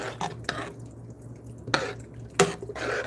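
Chicken being stirred into a pot of gumbo in a home kitchen, giving a few sparse, soft clinks and wet scrapes of a spoon against the pot over a steady low hum, near and fairly quiet.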